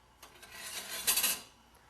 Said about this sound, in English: I have a little ladle here. Just going to take that foam off